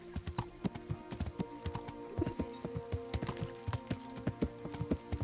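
Horse hooves clip-clop steadily at a riding pace in the medieval game Kingdom Come: Deliverance, a fast continuous rhythm of close, distinct hoofbeats with no talking.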